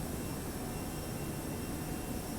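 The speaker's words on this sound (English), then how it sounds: "Oh, the CFMs are fairly noisy." CFM jet engines of a Toliss Airbus A321 in a flight simulator give a steady, broad roar and hiss that holds constant throughout, with no voices.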